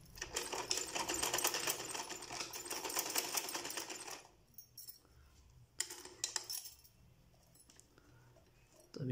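Sewing machine stitching cloth mask pieces at home, a fast steady rattling run of stitches for about four seconds, then a short second burst after a pause, close and clear without talk.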